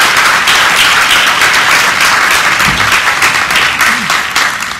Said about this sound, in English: A big round of applause for the great Chris Vernon.